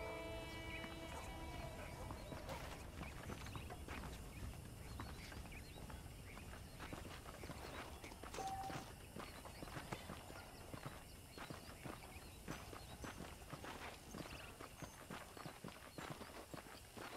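Horse hooves clip-clop at a steady walking rhythm from saddled horses in the Red Dead Redemption video game, close and continuous over a low ambient bed for the whole stretch.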